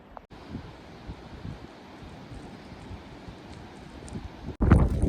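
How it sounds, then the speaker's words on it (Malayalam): Steady rushing wind buffeting the microphone on a rocky mountain road in Tawang, Arunachal Pradesh, with low rumbling gusts throughout, growing louder in a sudden strong burst at the end. "നല്ല കാറ്റടിക്കുന്നുണ്ട്"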